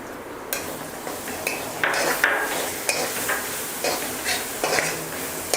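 Garlic, ginger and small onions are sautéed in a hot pan for paruppu urundai kuzhambu. A spoon scrapes and stirs repeatedly over a continuous sizzle, with uneven strokes close by and no talking.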